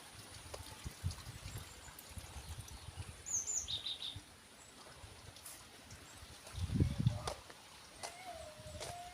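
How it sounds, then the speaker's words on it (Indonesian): Small birds chirp and tweet in a cool village setting, with brief high calls now and then over a steady murmur like trickling water and soft low rumbles. "Burungnya bagus-bagus."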